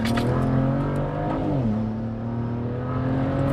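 BMW 335i with upgraded turbos accelerating in second gear on a highway, a loud close engine drone rising in pitch, briefly dipping as the throttle shifts, then pulling steadily.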